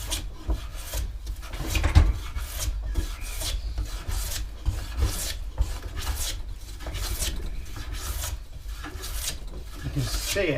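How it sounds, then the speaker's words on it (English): A sharp hand plane shaves a wooden board for a boot rack, with repeated rasping strokes in an uneven rhythm, close up and moderately quiet, occasionally catching on knots. "if your plane is sharp, that still gets stuck on knots, but not too bad"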